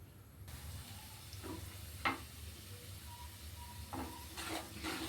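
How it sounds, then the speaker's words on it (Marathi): Ginger garlic paste frying in oil in a kadhai makes a soft, steady sizzle broken by a few faint scrapes and stirring clinks, heard alone and at low volume. "अद्रक लसूणची पेस्ट टाकायची, चांगली फ्राय करून घ्यायची।"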